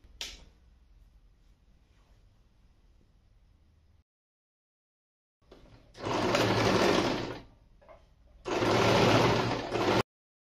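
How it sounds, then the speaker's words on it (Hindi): Two loud sustained bursts of a domestic sewing machine stitching a seam on trousers, each running about a second and a half, after a quiet stretch of low hum and a pause of silence. "इसमें मैं पहले सिलाई लगा के आपको दिखा देती हूँ"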